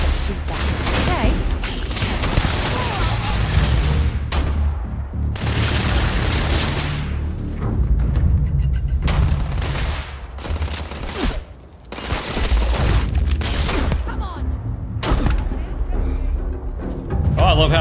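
Gunfire and booming shots in the video game Starfield during a ranger mission firefight, loud and continuous across the clip with bursts and heavy impacts, with brief lulls, while a person talks over it.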